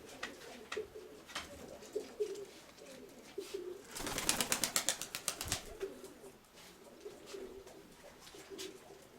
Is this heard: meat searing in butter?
no